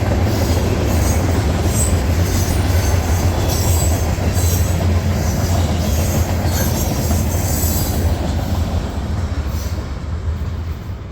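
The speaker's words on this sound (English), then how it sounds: "C6Ms were sandwiching an old BNSF SD70 Mac, now owned by WFRX." Freight train with a BNSF SD70MAC locomotive rolls past in a loud, steady roar of wheels and rail noise, low rumble underneath and faint squeals on top, continuing for the full stretch before easing slightly.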